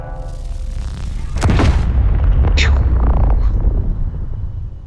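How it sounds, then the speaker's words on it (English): Weapon fire in the Space Engineers video game sets off one sudden loud boom with a deep rumbling roar that rolls on for several seconds, fired at an asteroid. "You could just see a minor little explosion there"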